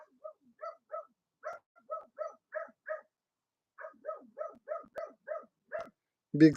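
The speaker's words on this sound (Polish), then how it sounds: "Piesek mi szczeka, jedzonka się domaga" A dog barks in short repeated bursts, two quick runs of about ten barks each separated by a brief pause, fairly close in a quiet indoor room, with a louder thump or voice at the very end.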